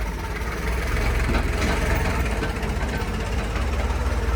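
A tractor engine rumbles past on a busy village street, loud and close, with a steady low chugging drone that fills the whole short stretch and has no clear start or fade.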